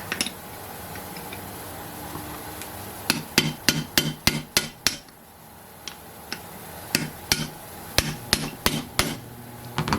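Sharp metallic hammer taps drive a Boca bearing into an OS FS-70 Surpass model engine, coming in two bursts of rapid, evenly spaced blows separated by a quiet pause, close and loud against low background hum.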